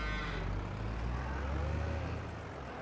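Cows in a farming game let out long, low moos that overlap a steady rumble of machinery, close and continuous for a few seconds.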